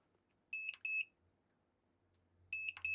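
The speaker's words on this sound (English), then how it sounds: "Why is that beep like that?" Beeps from a repaired electronic device just switched on, two short pairs of high electronic tones separated by silence, clean and close.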